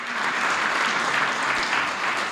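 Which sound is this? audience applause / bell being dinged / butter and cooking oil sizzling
audience applause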